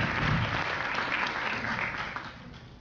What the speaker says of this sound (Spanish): Recibamos con fuerte aplauso.